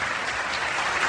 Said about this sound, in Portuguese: Salva de palmas pra Paulo Mavinier